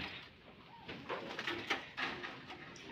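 Pigeons coo softly in a few short, low calls at a pigeon loft in Charghat, Rajshahi, with faint background noise.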